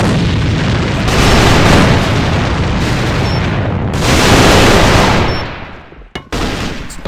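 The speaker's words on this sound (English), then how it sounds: "Grenade straight ahead." A grenade blast in the tactical shooter AVA during a 3v3 competitive round: a loud, sustained roaring boom fills the first seconds, a second heavy burst follows around the four-second mark, then the noise drops out briefly before resuming.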